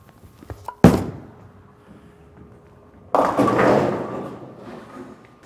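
Bowling ball thrown on the lanes, a sharp thunk as it drops, then a quiet roll followed by a loud burst of rolling rumble and pin crashing noise a few seconds later, with no voices.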